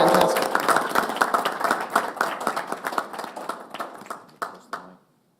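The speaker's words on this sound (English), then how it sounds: "Let's give them a round of applause." A meeting audience gives the honor guard a round of applause, dense clapping at first that thins into scattered individual claps and stops abruptly, leaving silence.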